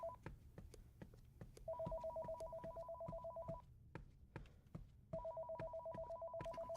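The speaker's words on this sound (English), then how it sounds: "I can hear the phone ringing." A telephone ringing in a horror video game, two long electronic ring bursts separated by a pause, moderately faint over a backdrop of rhythmic ticking or tapping, with no voices.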